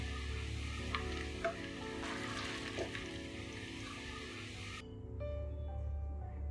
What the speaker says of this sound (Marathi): बघा, छान ब्राऊन कलर येईपर्यंत आपण याला फ्राय करून घेतलंय।